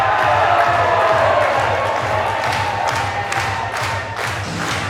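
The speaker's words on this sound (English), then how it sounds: "And doesn't the crowd just come alive for the Blockbusters?" Wrestling crowd cheers loudly as the tag team the Blockbusters make their entrance, a dense roar with whoops and scattered claps over a thumping rhythmic entrance beat, easing slightly toward the end.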